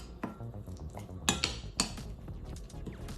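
Tandoori chicken marinade ingredients mixed in a bowl with a spoon, quiet scraping punctuated by several sharper clinks of metal against the dish, close and with no voices.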